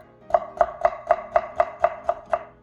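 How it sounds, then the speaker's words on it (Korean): A knife julienning radish into thin strips on a cutting board, nine quick, evenly spaced chops, crisp and close with nothing else heard. "무 300g은 5cm 길이 2, 3mm 굵기의 채로 써세요"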